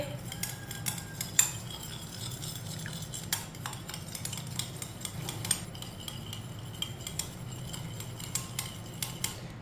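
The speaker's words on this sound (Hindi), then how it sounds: "अंडों को अच्छी तरह मिक्स कर लेंगे।" Eggs being whisked in a bowl for a breakfast recipe, giving a steady run of quick metallic clinks and scrapes with a few sharper knocks, close and fairly quiet throughout.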